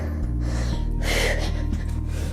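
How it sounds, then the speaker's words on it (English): Heavy, breathy exhaling from someone working through a beginner home yoga workout, a rough gust of breath rising over steady background music. "You can tell I'm breathing heavily"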